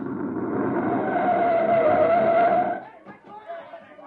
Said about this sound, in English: There's a recon car coming up.